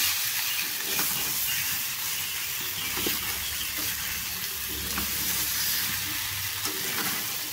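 Eggs fried with spices in a pan give a steady, moderate sizzle with soft stirring scrapes throughout, no voices.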